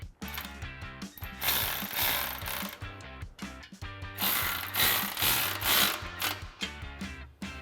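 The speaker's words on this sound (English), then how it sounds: "snugging these up with a 14mm socket and a 14mm wrench, just to hold it in place" A ratchet with a 14mm socket snugs up the exhaust clamp bolts on a 2015-2020 Ford F-150 fitted with a Flowmaster FlowFX dual exhaust, giving close, continuous rhythmic clicking strokes with brief gaps.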